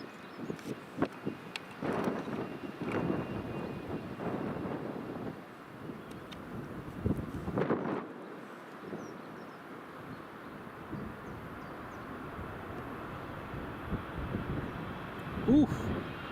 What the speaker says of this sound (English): here comes the 737 MAX. The wind has just picked up nicely as well.